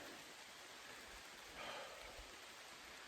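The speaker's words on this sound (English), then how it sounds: "I think it's starting to rain." Soft, steady rain starting on a forest hiking trail patters as a faint, even hiss, swelling slightly for a moment.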